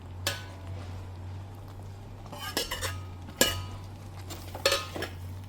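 Pieces of fried drumstick clink and knock into a pan of simmering yogurt masala, a few distinct metallic taps and scrapes over a steady low hum, with no talking.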